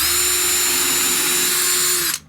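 A power drill bores a hole for door latch screws on a farm door, running steadily and loudly for about two seconds before winding down abruptly at the end.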